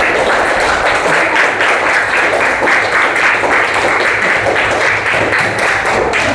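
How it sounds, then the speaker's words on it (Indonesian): Sixth-grade classmates clap steadily for a group presentation in an Islamic studies class, a loud, continuous patter of many hands filling the room throughout. "tepuk tangan ya"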